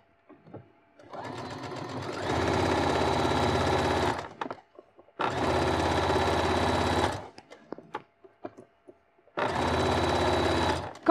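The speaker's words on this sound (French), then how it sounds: "Et je couds toute la longueur du zip." A sewing machine with a zipper foot stitches along a 20 cm zip on a beginner's square pouch, running in three steady, even bursts with short quiet pauses between them, close up and with no talking.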